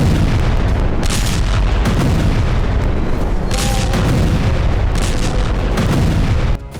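Explosions along the Lebanon border in wartime, a loud continuous rumble with several heavy booming blasts rolling one after another, ending abruptly.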